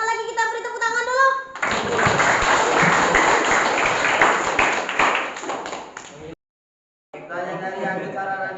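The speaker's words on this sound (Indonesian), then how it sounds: "kita beri tepuk tangan dulu" Classroom audience applause during a teacher training lesson, a dense burst of clapping lasting several seconds, framed by a voice speaking before and after.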